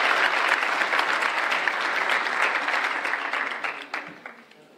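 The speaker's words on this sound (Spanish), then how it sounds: "quiero pedir un aplauso más fuerte" An audience at a university entrepreneurship and innovation fair applauds loudly and steadily, the clapping slowly thinning and fading toward the end.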